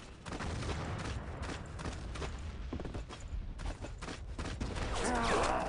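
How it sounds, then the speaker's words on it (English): Distant booms and rattling bursts from destroyer cannon fire in the video game Battlefield 1942, on the Omaha map, form a dense, continuous battle din with no single shot standing out. "I think they are doing some damage with the destroyer's cannons all the way from back over at the beach."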